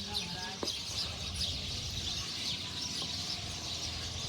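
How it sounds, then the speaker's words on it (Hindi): Birds chirp and tweet in repeated short calls at a quiet outdoor site on a walking pilgrimage along the Narmada, faint against a steady background hiss, with no talk. "यहाँ पर चिड़ियों की चहचहाट सुनाई दे रही है"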